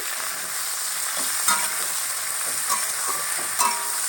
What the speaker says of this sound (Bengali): এবার ভালো করে নাড়াচাড়া করব